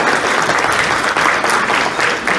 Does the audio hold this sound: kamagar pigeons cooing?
no